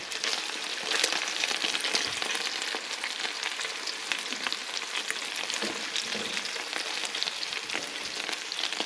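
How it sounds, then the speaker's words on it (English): Butter sizzles and spatters steadily in a pan alongside rainbow trout with garlic, a dense, loud, continuous frying hiss with small crackles throughout and no talking. "let's put some butter in the bottom of the pan"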